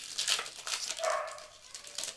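A dog barking upstairs indoors, a few quick yips and barks heard in a short muffled burst.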